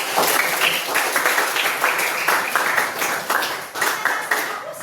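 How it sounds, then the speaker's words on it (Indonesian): A crowd claps and applauds steadily for several seconds, loud and close, with a dense irregular patter of hands. "Boleh tepuk tangan untuk Kak Yunita."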